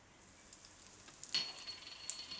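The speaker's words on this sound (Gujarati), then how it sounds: "એમાં આપણે નાખીશું હિંગ" Asafoetida dropped into a spoonful of hot oil for a tempering for tomato-garlic chutney, giving a faint, quiet sizzle that flares briefly about midway and then settles into a soft crackle, with no talking.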